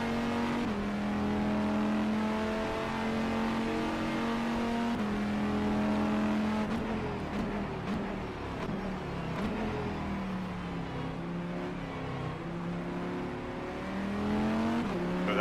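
GTE race cars thunder around Sebring in the racing sim rFactor 2. One loud engine drones close and continuous, climbing and dropping through gear shifts, while rival cars snarl past nearby.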